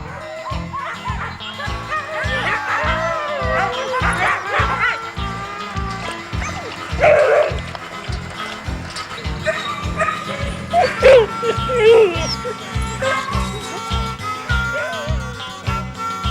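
Several husky dogs bark and yip excitedly, overlapping, over a steady rhythmic thumping, with whimpers mixed in throughout.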